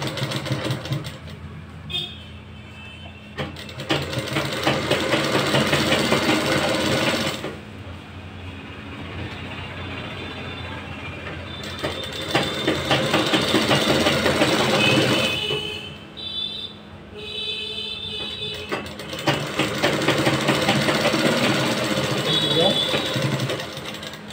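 A sewing machine stitches all around a salwar waistband folded over a 2-inch margin, running in long steady whirring stretches with brief pauses between, close and loud.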